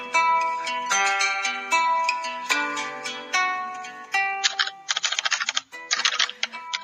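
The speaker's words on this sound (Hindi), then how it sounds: "टाइपराइटर के बटन दबने की आवाज सुनाई दे रही थी" Rapid typewriter keys clatter in uneven bursts, with sharp mechanical strikes and a few brief pauses, close and fairly loud.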